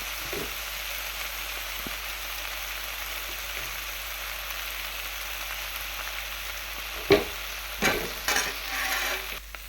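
Tomatoes and ridge gourd sauté in a pan for a kootu, a soft continuous sizzle with occasional spoon scrapes and a few louder stirring clatters toward the end, close and without talk.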